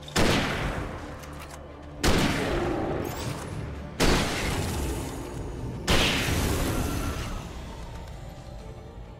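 Hunting rifle fire in Alan Wake Remastered: four heavy, booming shots about two seconds apart, each with a sharp crack and a long rolling echo that fades before the next.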